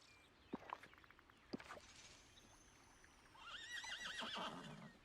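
A horse whinnies in Disney Dreamlight Valley, a drawn-out wavering neigh rising and falling over the last two seconds, preceded by a few soft hoof clops near the start.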